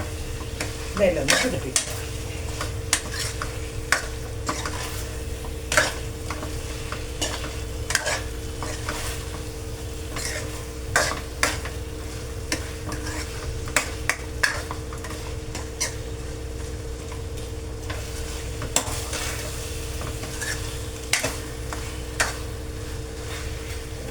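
Fried gobi being tossed and stirred in a hot pan for gobi manchurian: a continuous sizzle with sharp utensil scrapes and clinks at irregular intervals, close up, with brief talk near the start.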